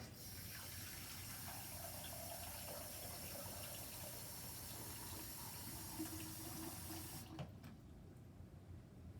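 Tap water gushes steadily into a bowl for roughly seven seconds, a close, continuous rushing fill that stops abruptly near the end, leaving quiet.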